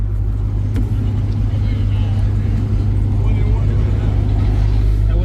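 A Dodge Scat Pack's V8 rumbles loudly and close with a deep, steady drone while it is prepped for a race, voices talking over it.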